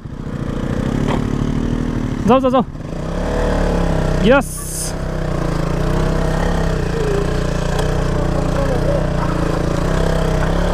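A motorcycle engine drones steadily on a wet, muddy trail in Lamjung, with a couple of brief rising whines partway through and people talking over the running motor.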